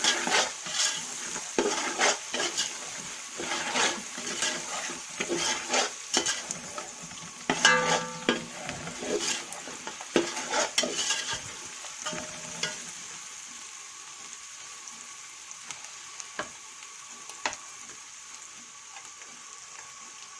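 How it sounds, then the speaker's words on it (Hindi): Spices with chilli and turmeric being roasted in a pan for aloo matar pulao, a soft continuous sizzle with repeated scraping stirs that are busier early on and then settle to a quieter fry. "अब इस मसाले को थोड़ी देर भूनेंगे।"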